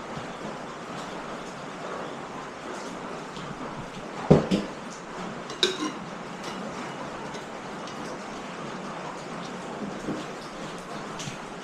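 Steady, dense hiss of heavy rain pouring down, with a couple of sharp knocks partway through.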